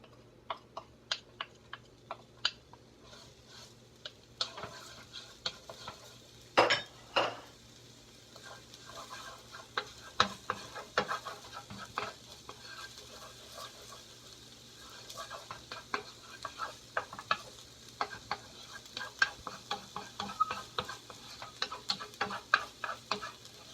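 Garlic and ginger frying in a pan while being stirred for an egg roll filling, with faint sizzling and irregular ticking scrapes and clinks of the utensil, fairly quiet and close.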